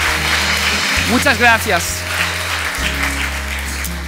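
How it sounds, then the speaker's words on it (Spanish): Church congregation applauding in a Spanish-language service, with clapping under and between a speaker's voice over a steady low hum. "Darle un aplauso"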